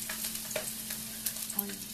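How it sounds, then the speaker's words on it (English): Chopped asparagus sizzles steadily in a hot non-stick pan, a dense close-up crackle and hiss of frying with a few louder pops and stirring clicks, with no talking. "you want that pan to get a little hot so you can hear it sizzle"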